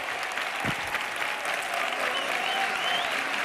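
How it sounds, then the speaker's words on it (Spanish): A studio audience at a Spanish TV game show applauds, a dense, steady wash of clapping that holds at full strength throughout with no talk over it. "Aplauso para Miriam."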